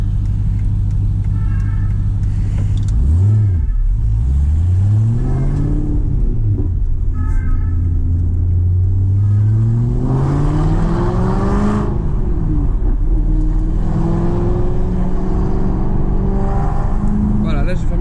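An Aston Martin V8 Vantage engine revs with its exhaust valves closed, a loud, continuous low drone sweeping up and down through several throttle blips, with a voice talking over it.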